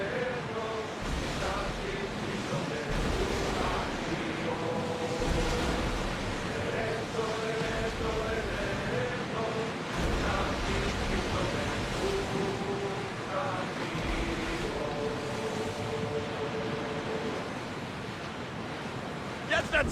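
In Assassin's Creed Odyssey, a ship is rowed across the open sea, with a steady wash of waves and wind and rhythmic water surges from the oars, and voices talking over it at times.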